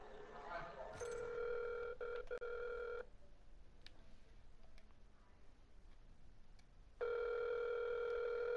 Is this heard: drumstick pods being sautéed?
no